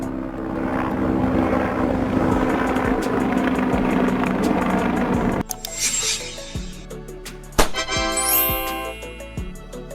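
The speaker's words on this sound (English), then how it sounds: "Firefighting helicopter." A firefighting helicopter's engine and rotor drone loudly for about five seconds before cutting to a sparser passage with tinkling, chime-like tones and isolated knocks.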